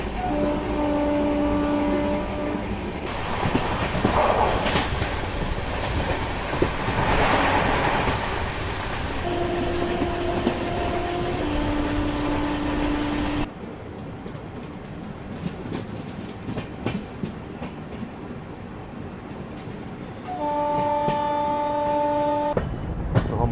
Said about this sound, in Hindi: हमारी ट्रेन का अराइवल हो रहा है देवरिया सदर रेलवे स्टेशन पे और सामने से किसी ट्रेन का डिपार्चर भी हो रहा है।